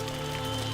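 Steady rain pattering on a farm in Mount and Blade: Viking Conquest, a continuous even wash of drops under a faint droning background tone, with no voices.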